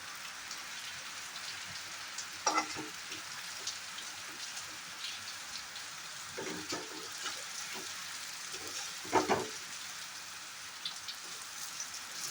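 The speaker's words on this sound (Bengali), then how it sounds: "দেখো আমি উল্টে পাল্টে খুব ভালো করে ভেজে নিচ্ছি।" Jackfruit seed fritters fry in oil in a kadai with a faint, steady crackling sizzle. A few short scraping knocks come as they are turned.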